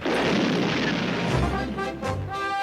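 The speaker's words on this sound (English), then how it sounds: "He used stun grenades! That's cheating!" Stun grenades explode in a cartoon battle, a loud, dense rumbling boom that rolls on continuously with crackling bursts layered over it.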